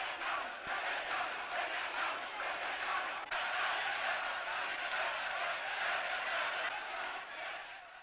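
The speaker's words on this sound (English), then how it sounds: "They are cheering this man." A large street crowd in the Egyptian capital cheers in a steady, roaring wall of voices, sustained and distant-sounding throughout, with a brief shout rising out of the mass.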